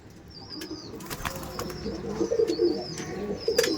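Madrasi tournament-quality pigeons coo in low, repeated throaty bursts close by, with occasional wing flaps and faint high chirps in the background.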